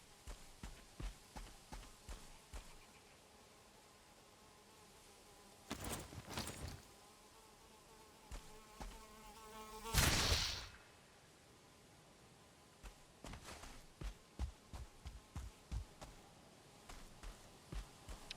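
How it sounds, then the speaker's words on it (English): A deathsquito in the game Valheim buzzes with an insect-like whine that swells briefly and recedes, over repeated in-game footsteps and a sharp rushing burst midway. "I hear death mosquitoes."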